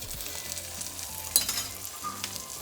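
In-N-Out style burger patties topped with cheese and caramelized onions sizzle steadily in a hot pan, a continuous close frying hiss with a brief clatter partway through and no voices.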